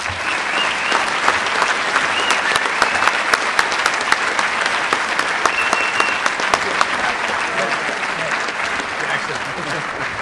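An audience at a 2009 ASCA induction ceremony applauds steadily to welcome swim coach Jack Nelson, dense clapping from a large crowd sustained for the whole stretch, with a few voices mixed in.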